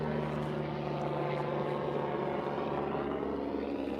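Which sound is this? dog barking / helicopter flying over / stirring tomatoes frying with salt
helicopter flying over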